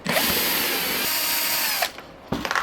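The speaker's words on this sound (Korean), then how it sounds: "쫙 뒤집어서 손잡이 아랫부분을 고정해주는 나사 긴 게 2개 있어요. 이 2개를 마저 빼줍니다." A power drill backs long screws out of the handle of a 24-litre cooler, a loud close whine for nearly two seconds, then a pause and a shorter burst.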